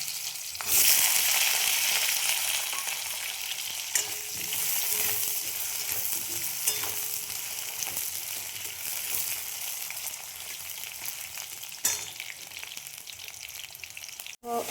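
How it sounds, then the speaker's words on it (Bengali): Cut potatoes frying in oil in a pan with bay leaf, a loud steady sizzle that is strongest at first, with occasional stirring scrapes and a sharp clatter near the end. "এবার আমি এই কাটা আলুগুলো ভেজে নেব।"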